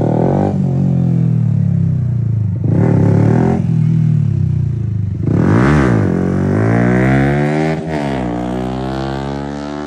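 A motorbike passes nearby in a scenic outdoor spot near Bergen, Norway, its loud engine rising and falling with Doppler-like sweeps as it goes by, steady and close throughout.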